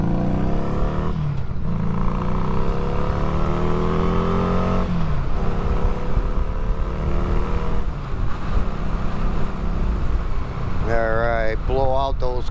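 Harley custom 500 motorcycle engine revving, with repeated rising and falling engine pitch as the throttle is worked and a closer burst of revving near the end, under ongoing talk.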